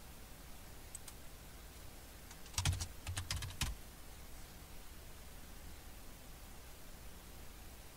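A short burst of quick keystrokes on a computer keyboard, lasting about a second, over a steady faint hiss; otherwise quiet.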